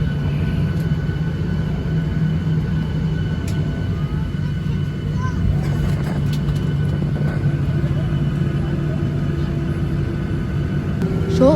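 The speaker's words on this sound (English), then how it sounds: "Shortly we reached the runway and we took off." Virgin Australia Boeing 737-800 taking off, heard from inside the cabin as a steady, dense low engine roar and rumble that holds throughout without a break.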